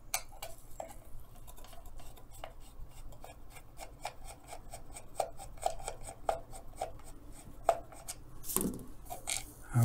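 Screws being removed from the bottom of a Singer 128 sewing machine foot pedal: faint, close ticking and scraping clicks from a screwdriver turning, irregular and sparse, with a louder knock near the end.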